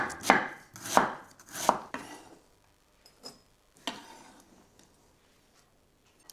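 Knife finely slicing cabbage for slaw on a cutting board: three sharp, evenly spaced chops up close, then a few lighter, sparser cuts fading toward quiet.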